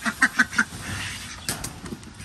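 Ducks quacking as they are let out of their pen, a run of four short, fairly close quacks in quick succession followed by softer scattered calls and rustling.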